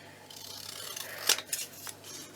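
Large spare scissors, like big garden shears, snip through paper while making mini ephemera, giving a few close, crisp cuts with a sharp snap near the middle over quiet room hiss.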